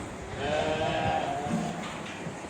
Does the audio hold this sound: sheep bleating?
yes